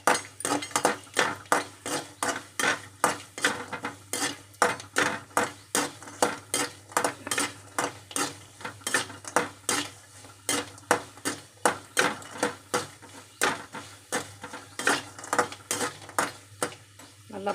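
Asafoetida and coriander fry in a hot pan while a utensil scrapes and stirs in a steady rhythmic pattern, each stroke clinking against the metal over a soft continuous sizzle.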